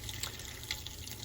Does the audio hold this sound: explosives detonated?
no